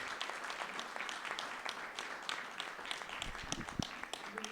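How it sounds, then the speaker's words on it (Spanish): Audience applause for the candidates at a county supervisor District 1 candidate forum, steady, dense clapping from a medium crowd filling the whole stretch, fairly far off and moderate in level. "I hope you give them candidatos, a nice round y of applause"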